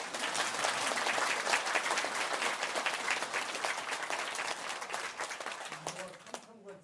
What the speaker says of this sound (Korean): 공짜로 준다고 할 때는 박수도 치는 거예요.